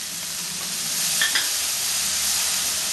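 Butter sizzles in a pan with sweet corn, a steady, close frying hiss that swells slightly midway, with light stirring.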